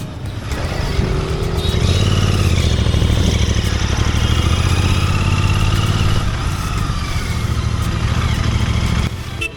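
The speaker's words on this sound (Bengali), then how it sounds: "বাইকে তেল ভরিয়ে এগিয়ে চলেছি বাড়ির পথে, এই ভাঙাচোরা রাস্তার ওপর দিয়ে।" A GT650 motorcycle is ridden over a broken, potholed road, its engine droning loudly and steadily with rising and falling revs and wind rush. The sound stays close and continuous throughout.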